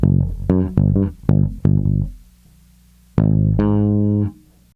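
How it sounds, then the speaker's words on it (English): Bass guitar plays a few notes from a song, several short plucked notes with octaves and then one longer sustained note after a brief gap, clean and close. "So everything together sounds like this."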